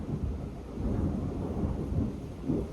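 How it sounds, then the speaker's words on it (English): A deep, sustained rumble of thunder rolls low and heavy, swelling in bursts across the whole stretch with no voices. "That was one of the loudest thunder strikes we have heard."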